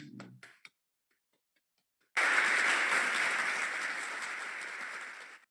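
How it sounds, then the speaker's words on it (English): Enthusiastic audience applause for Rwandan and Kenyan performers bursts in after a brief silence, a dense, loud wall of clapping that slowly tapers over several seconds. "So let's give them a huge round of applause."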